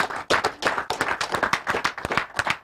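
Audience applause at a Nigerian public relations event, heard as close, loud clapping with distinct individual hand claps in an uneven rhythm throughout, without talk.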